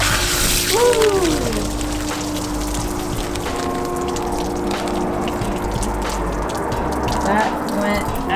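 Coolant pours out of disconnected coolant lines on a van, a steady splashing gush running the whole time, with a brief voice near the start.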